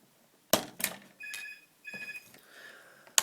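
A telephone rings in short repeated bursts, clear and fairly close, with sharp clicks at the start and end and no talking.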